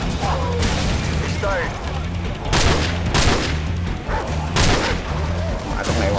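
Explosions and gunfire in the video game Call of Duty 4 Modern Warfare, with several loud bursts and flashbang booms among steady engine-like drone, while someone talks over it.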